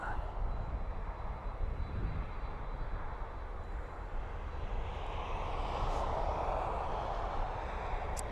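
A nine-year-old FedEx Boeing 767 jet departs Dublin Airport, bound for London Stansted. Its engines give a loud, continuous broadband roar that holds steady and swells slightly toward the end, heard from outdoors.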